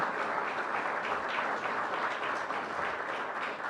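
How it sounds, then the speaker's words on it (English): A banquet audience at a Hall of Fame event applauds inductees with steady, full-room clapping that swells and eases slightly in waves, with no talk over it. "Let's give them a round of applause."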